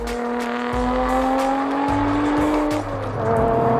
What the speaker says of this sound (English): God, I love the howl of a supercharged V6.